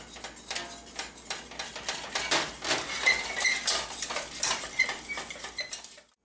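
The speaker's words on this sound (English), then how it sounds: "drop 1 yolk in and beat that into your flour mixture here" A yolk being beaten into a flour mixture in a bowl for a cheese soufflé, heard as steady clattering utensil scrapes and taps against the bowl, busy and close, with no talk.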